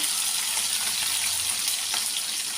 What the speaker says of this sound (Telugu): ఆనియన్ వేగింది కదా